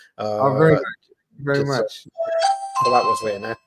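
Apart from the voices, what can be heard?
doorbell ringing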